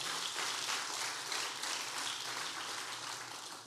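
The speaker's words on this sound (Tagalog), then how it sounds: "yung palakpak po para sa ating Panginoon" Church congregation applauding for the Lord during a service, a steady dense wash of many hands clapping together that holds at even loudness for several seconds before easing slightly at the end.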